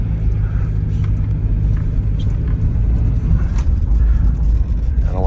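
A 1996 Mitsubishi Delica L400 4x4 van, Chamonix edition, driving around a parking lot, with a loud, steady engine and road rumble heard from inside the cabin throughout.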